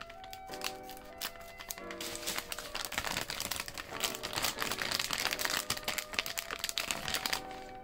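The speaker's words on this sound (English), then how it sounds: "Gonna cut this open." Someone cuts open a package from a recycled electronics mystery box, giving quiet, close crinkling and rustling of plastic and paper that grows busier and louder toward the end, with no speech.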